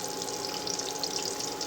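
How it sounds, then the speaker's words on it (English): Catfish fillets sizzling in hot oil in a pan, a steady dense frying hiss that stays even and close throughout with no talk. "So our fish has been frying for a few minutes."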